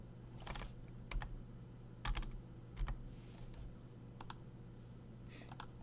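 Sparse keyboard typing, a few scattered clicks and short bursts of keystrokes, quiet and close, over a low steady hum.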